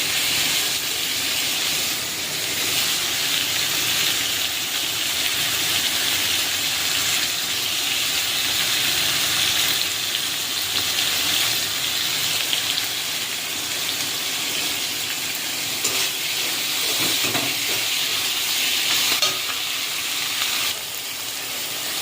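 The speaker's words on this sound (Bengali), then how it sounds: "চিকেনটা আমি 5 মিনিট মতো কষিয়ে নেব ভালো করে।" Chicken sautéing in oil in a pan for chicken ghugni, a constant broad hiss of sizzling that runs steadily and fairly close throughout, with no talk over it.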